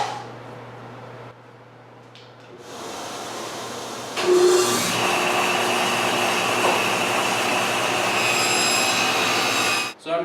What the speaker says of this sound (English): I'm just going to do it in 2 passes at the table saw and sneak up on my fit and get it just right.